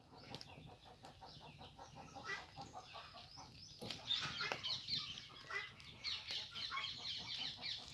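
Dotted hens (seema kodi) clucking on a farm, several soft, faint clucks and squawks close by, with a little quiet background noise and no clear speech.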